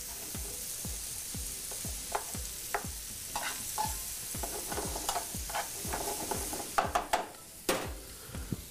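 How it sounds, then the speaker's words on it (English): Sausage, onions and garlic sizzle together in a pan, with a continuous frying hiss and a quick regular series of spatula scrapes, followed by a few louder knocks near the end. "While your sausage and onions and everything are simmering down over here"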